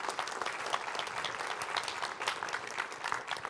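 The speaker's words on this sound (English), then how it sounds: "let's give him a hand clap of praise" A church congregation gives a hand clap of praise, the sustained, dense applause of many hands continuing evenly throughout at moderate loudness, with no speech over it.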